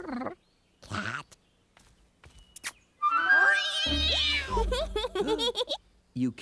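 A cartoon cat meows loudly and drawn-out up close in an animated children's show, with a few shorter cries, mixed with childlike voices and playful vocal sounds around it.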